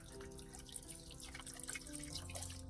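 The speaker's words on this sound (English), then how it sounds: "Okay, so I'm gonna add a little water." Water is poured into a truck cooker, a small splashing trickle with drips and liquid patter running continuously, faint and close, over a low steady hum.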